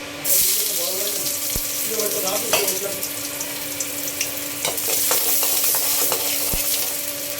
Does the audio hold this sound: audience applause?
no